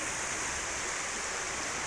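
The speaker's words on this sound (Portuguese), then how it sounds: "O rio vem de lá" A river stream near Maresias beach flows in a steady, broad hiss of rushing water, close and continuous without pauses.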